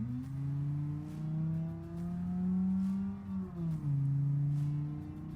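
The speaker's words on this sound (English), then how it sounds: "let me just get up to cruising speed and then take a listen to this engine" A smooth video game V10 engine drone in a Lincoln-style car holds at a steady cruising pitch, dipping briefly near the end before settling again, loud and continuous.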